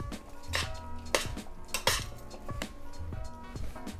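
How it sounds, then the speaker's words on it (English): Utensils toss a panzanella of bread, tomato, olive oil and pepper in a bowl, making a busy run of close metallic clinks and scrapes against the dish, with no voices. "Give this a mix."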